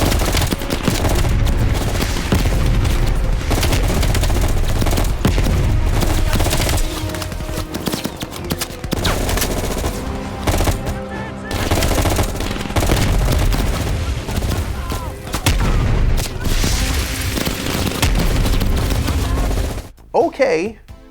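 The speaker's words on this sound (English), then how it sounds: "the gunshots, the explosions, everything is just thumpy, loud, bass, in-your-face action movie" Dense, booming gunfire and explosions in Call of Duty: Black Ops Cold War roll on almost continuously, loud and bass-heavy, with a brief lull near the end.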